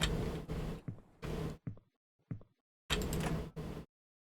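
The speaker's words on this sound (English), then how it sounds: "I wish that these doors would stop closing on me." Door sounds from a game, several short sliding door pulses in quick succession with gaps of silence between them, close and clear.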